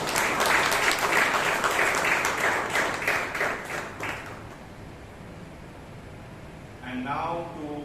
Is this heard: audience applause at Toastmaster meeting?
yes